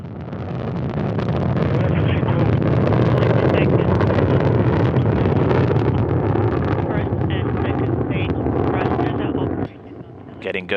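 Soyuz rocket with four strap-on boosters roaring at liftoff, a loud continuous broadband rumble that holds steady for most of the stretch, then dips briefly near the end.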